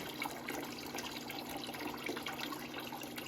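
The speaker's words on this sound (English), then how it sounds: "I'm just running the final recirculate with clean water." Clean water flushes through a reverse osmosis system used for maple syrup, a steady rushing, gurgling flow that stays close and continuous with no speech.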